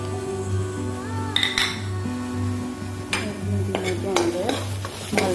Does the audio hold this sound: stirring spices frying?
yes